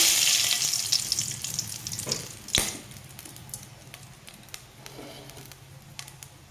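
Bay leaves hit hot oil in a wok-style pan already holding dried red chillies, giving a loud, bright sizzle that fades into steady softer frying with a few sharp crackles and clinks, no talking.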